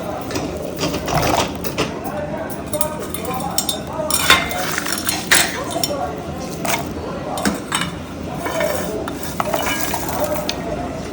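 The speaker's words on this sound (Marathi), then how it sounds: "आता आपण आलं लसणाचं वाटण करतोय" Ginger and garlic are pounded into a paste at home, with repeated clinking and scraping of stone or metal in an uneven rhythm, close and fairly loud.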